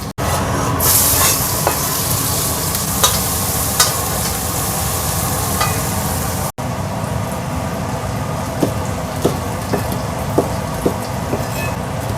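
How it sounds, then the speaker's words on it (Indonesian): Continuous loud sizzling of shallots and chilies being stir-fried in a pan, with occasional clinks and scrapes of a utensil throughout. "Goreng sesuai selera ya, mau kering ya silahkan."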